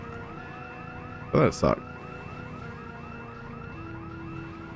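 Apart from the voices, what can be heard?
house alarm in video game Project Zomboid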